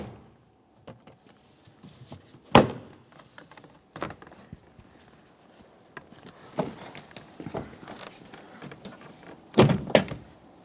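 A rear door panel being pried off a 2003-2008 Toyota Corolla, with a few sharp snaps and thunks of clips releasing, spaced apart over quiet handling noises.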